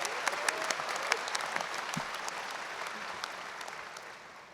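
Audience at a Bryan High graduation ceremony claps in a sustained, fairly faint wash of applause, heard from a distance in a large room, fading toward the end.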